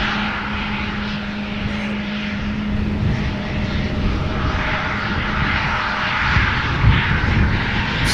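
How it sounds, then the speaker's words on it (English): A KLM Embraer 175 jet departs Amsterdam Schiphol Airport with a continuous, fairly loud engine roar that holds steady throughout, swelling slightly toward the end. "It's Embraer 175 going to Turin."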